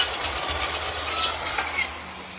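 A briquette making machine runs with a steady, loud mechanical roar and a broad hiss, with small clanks and knocks rising briefly above a constant drone.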